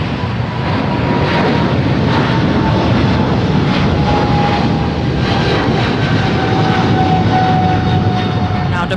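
An eight-year-old American Airlines Boeing 777-300ER heavy jet takes off at Los Angeles International, a loud continuous engine roar with a faint whine, steady from start to finish.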